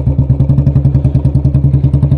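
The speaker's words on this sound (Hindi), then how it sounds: "तो साउंड सुनिए आप एक बार इसके फर्स्ट गियर में" Royal Enfield Bullet BS6 motorcycle riding in first gear, a loud, close single-cylinder thump beating in a fast, even rhythm throughout.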